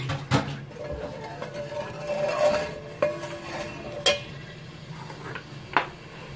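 A spoon stirs orange juice into jaggery in a pot for sweet orange rice, giving soft scraping with a few sharp clinks against the metal, close and fairly quiet, with no talking.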